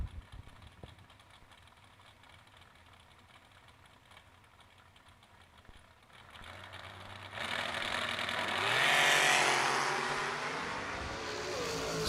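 Two drag cars, a Pickett Roadster and a Monza, launch together: a low idle rumble rises into a loud, rising roar of revving engines that swells and peaks before easing slightly, with no talk over it.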